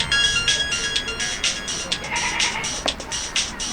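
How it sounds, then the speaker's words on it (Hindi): A phone ringtone plays in a Maithili comedy serial scene, a bright electronic melody of repeating short tones, fairly loud and continuous, with a voice speaking over it. "किसका फोन आ गया"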